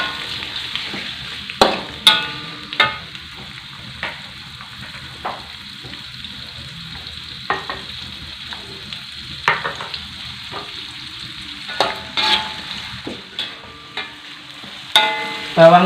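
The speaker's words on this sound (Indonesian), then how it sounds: "Bawangnya ini tumis sampai aromanya naik sahabatku ya" Shallots, garlic and turmeric sauté in a pan with a steady soft sizzle, broken by occasional spatula scrapes and clinks against the pan at irregular intervals.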